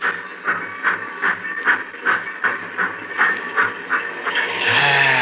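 A radio drama sound effect of a steam train starting off: loud, steady chuffs repeat in an even rhythm and end in a swelling rush of steam, with no one speaking.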